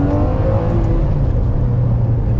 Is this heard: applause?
no